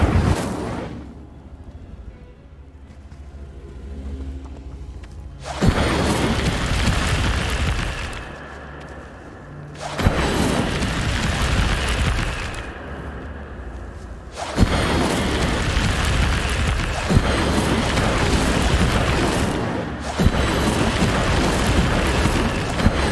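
Incendio fire spell in Hogwarts Legacy, cast repeatedly as loud roaring whooshing bursts with booming impacts, several long blasts in succession.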